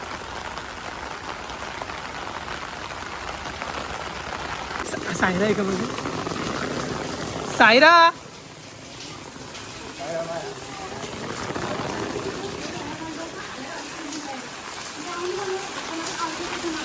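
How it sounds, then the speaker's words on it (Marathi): Heavy rain pours outside a house during a Ganpati festival visit in Hamrapur, a steady dense hiss filling the whole stretch, with a brief louder burst near the middle and voices talking over it. "बाहेर लय पाऊस पडते"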